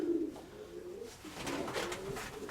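Close, low coos from a domestic flying pigeon in a loft, a few rolling calls running together with no voices.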